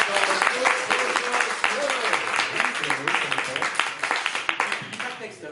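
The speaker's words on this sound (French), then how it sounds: "Applaudissez à Dame, s'il vous plaît." An audience at a slam poetry evening in a media library applauds, with brisk, continuous clapping from many hands as voices talk over it.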